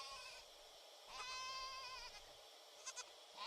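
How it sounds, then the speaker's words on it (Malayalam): Goats bleating on a farm in Vadakara, a few nearby wavering bleats in two main bursts, then short quick calls near the end, over a quiet background. "ഇവർ ആടുകളെ വളർത്തി നിൽക്കുകയാണ് പതിവ്"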